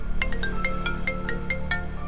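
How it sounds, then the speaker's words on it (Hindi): A mobile phone rings with an incoming call, a quick bright electronic melody of repeating tones over a steady background hum, with no speech. "विशाखा का फोन है।"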